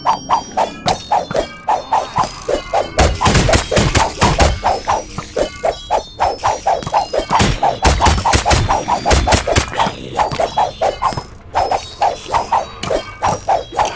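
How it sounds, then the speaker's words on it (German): Rapid, rhythmic shooting in the Minecraft video game rattles on continuously for about fourteen seconds, dense repeated sharp cracks with no pauses and no talking. "Ach, da schießen ja alle hin."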